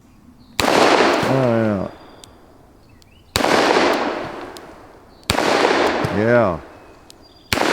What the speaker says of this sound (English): Okay, let's shoot some more.